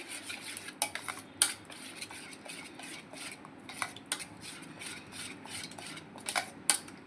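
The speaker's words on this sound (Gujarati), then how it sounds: "એના પછી બધું મિક્સ કરી લઈશું" Onion, capsicum and tomato mixture being stirred in a pan, with irregular clinks and scrapes of a spoon against metal at close range and no talking.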